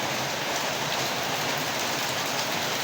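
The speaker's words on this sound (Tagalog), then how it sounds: "So, super lakas ang ulan mga kadyan." Steady, dense downpour of heavy rain hissing continuously across the whole stretch, with no voices and no breaks.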